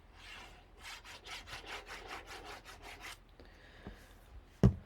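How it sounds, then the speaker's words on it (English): Bone folder burnishing paper on a mini scrapbook album: a rapid series of about ten rhythmic rubbing strokes, close and moderately loud, then a brief smoother scrape and a sharp click at the end. "I'll use my bone folder and burnish and burnish"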